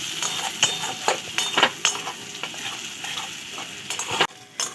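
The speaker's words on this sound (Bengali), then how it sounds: "এবারে পেঁয়াজটাকে আমি খুব ভালো করে লাল লাল করে ভেজে নেব।" Finely chopped onions sizzle in a pan while being fried deep red, with a steady frying hiss and repeated scraping stirs of a spatula against the metal, close up and without talking.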